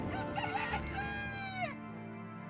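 A rooster crows loudly and close by, one long rising and falling call that trails off into quiet.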